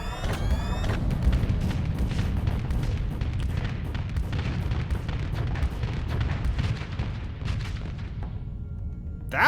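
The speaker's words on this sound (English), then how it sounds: "That was a pretty good Dakar barrage there." Artillery barrage in the space combat game Starsector: a dense, continuous run of booming shots and explosions, loud and close, rolling steadily for several seconds before tapering off with no talk over it.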